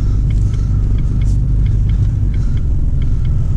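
Ford Focus creeping slowly through a snow storm, a loud, steady low rumble from the road and engine, with faint regular ticking from the hazard flashers over it.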